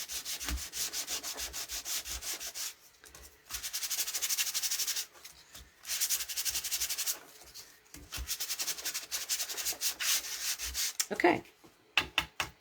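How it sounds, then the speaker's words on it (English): Repeated bursts of hand sanding rub across a stamped paper card to reveal its layers, steady strokes in runs separated by brief pauses, close and fairly loud, with a sharper scrape near the end. "you can sand off as much as you want to reveal"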